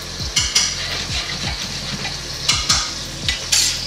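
Vegetables sauteing in a hot pan sizzle loudly and steadily, while a utensil stirs them with repeated scraping knocks in an uneven rhythm.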